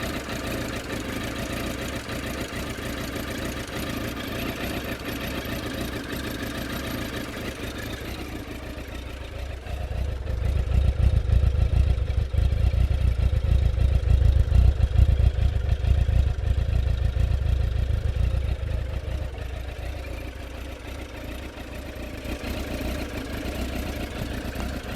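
A 2006 Suzuki GSX600F Katana motorcycle idles cold without the choke in a church parking lot, a steady close engine rumble with faint clatter that swells louder for several seconds midway before settling back to a lower idle.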